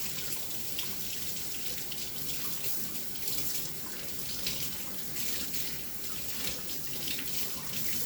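Tap water runs steadily into a sink while frozen food is rinsed under it, a continuous close splashing hiss with no talking.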